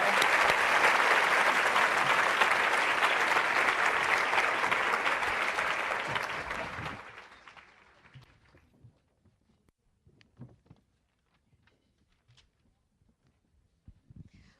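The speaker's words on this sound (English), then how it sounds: "Let's give another round of applause to Jenny." An audience at a leadership event applauds speaker Jenny Fleiss, thick steady clapping that fades out around seven seconds, leaving near-quiet with a few faint scattered sounds.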